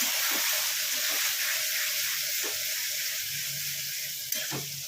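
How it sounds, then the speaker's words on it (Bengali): Water poured onto spices frying in a pan makes a loud, close, steady sizzle and hiss, with soft stirring knocks and one sharp click near the end. "এবার এটাকে একটু জল দেবো"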